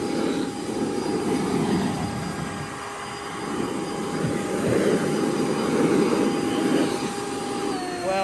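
A Ryobi 40v brushless electric leaf blower running on turbo, a loud steady whooshing roar with a faint high whine, dipping briefly then surging back, with no talking.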